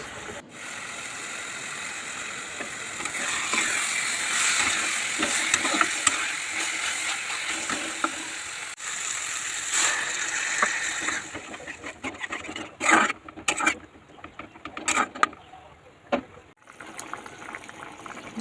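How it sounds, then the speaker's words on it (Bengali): Water is poured into fried spice paste in a pan while cooking a pangas fish curry, giving a loud sizzling hiss and bubbling at first, then settling into quieter clanks, scrapes and stirring knocks of a utensil. "এখন আমি এর মধ্যে পরিমাণ মতো জল দিয়ে দেব।"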